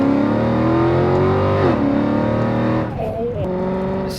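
Catless Mercedes CLK63 Black Series exhaust revving loudly up and down, with harmonic engine tones sweeping up and falling, crackling on the lift-off.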